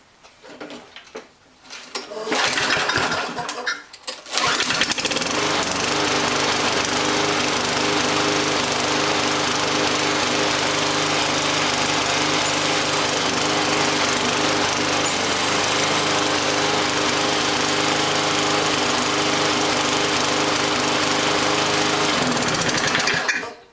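A petrol MTD lawn mower engine is started after a few quiet seconds and then runs continuously and loudly for about twenty seconds with a rough, uneven idle before cutting off at the end.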